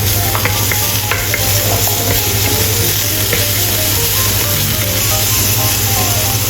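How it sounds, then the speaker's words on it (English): Chopped garlic stir-frying in a hot wok for a cabbage dish, a steady loud sizzle with scraping stirs throughout and no voices. "Stir-fry chopped garlic until fragrant."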